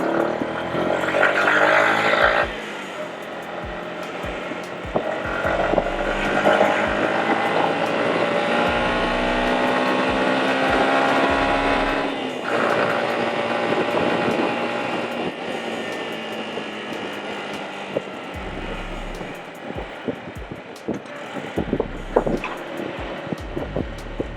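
A Yamaha YZF R125 motorcycle rides through a city street in London, its small engine droning steadily up and down through gear changes beneath heavy wind rush, with a few sharp knocks near the end.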